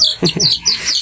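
A lone young chick of naked neck and cobra breeding stock chirps in quick, bright peeps, several close high calls within about a second.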